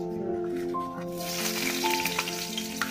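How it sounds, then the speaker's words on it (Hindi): Garlic sizzling and frying in hot oil in a kadai, a steady crackling hiss with a few stirring clinks, while a tonal hum runs beneath it. "पहले लहसुन डालेंगे"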